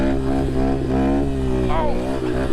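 Yamaha TTR 125 dirt bike fitted with an FMF exhaust, ridden in second gear on a chilly day, its engine droning loud and close with a steady harmonic note that rises and dips as the throttle changes.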